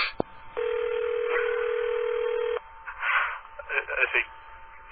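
Telephone dialing tones on a call-in radio show: a short click, then a sustained steady tone for about two seconds, followed by a quick run of separate touch-tone beeps.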